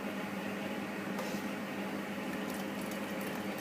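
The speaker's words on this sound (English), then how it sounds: "I'm going to drain the water" Cooking water drains off a pot of part-boiled rice in a steady, hissing, bubbling pour at close range, continuous and fairly quiet, with no voices.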